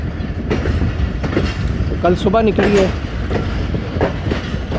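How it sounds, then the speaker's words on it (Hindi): The Hazara Express from Karachi rolls into Rawalpindi railway station with a loud, steady rumble and rhythmic wheel clatter close by, while someone speaks briefly over the passing carriages. "हज़ारा एक्सप्रेस रावलपिंडी रेलवे स्टेशन पे अप्रोच बना रही है"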